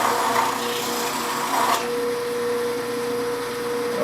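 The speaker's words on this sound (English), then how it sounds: "put the tool on the platform, just back and forth across the wheel until you have it all sharp." A tool is held on a platform and moved back and forth across a spinning sharpening wheel, producing a steady close grinding rasp over a constant motor hum with a faint ringing tone.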